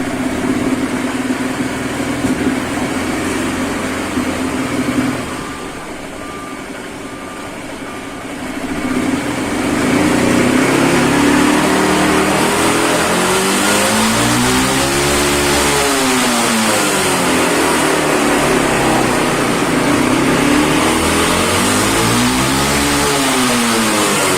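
A Suzuki Burgman 400 maxi scooter engine idles, then revs up repeatedly in rising and falling surges, loud and close, with no voices.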